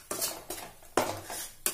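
A spoon scrapes and clinks against a pan while cream is stirred into rajma dal, giving several distinct bursts of metallic scraping at close range with no talk.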